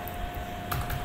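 Keys clatter briefly on a computer keyboard, a quick handful of light, close clicks over faint steady room hum.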